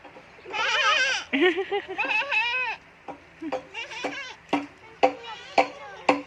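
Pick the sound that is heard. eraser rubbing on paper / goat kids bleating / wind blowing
goat kids bleating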